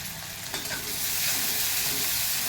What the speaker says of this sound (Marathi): त्यानंतर एक बारीक चिरलेला कांदा घालूया आणि कांदा असं चांगला आपण परतून घेऊया